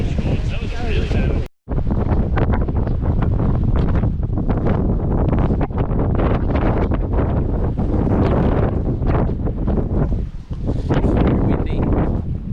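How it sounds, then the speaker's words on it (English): Strong wind at the Twelve Apostles on the Great Ocean Road buffets the microphone in loud, rumbling gusts, nearly continuous apart from one brief dropout, with voices faintly mixed in. "Windy."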